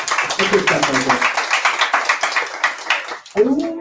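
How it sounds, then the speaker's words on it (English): A live event audience claps in a quick, steady patter of hand claps, with voices talking and calling out over the clapping near the end. "Let's clap that up"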